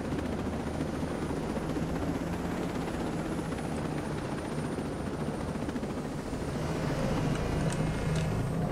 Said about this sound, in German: Die machen so bedrohliche Geräusche, diese Drohnen.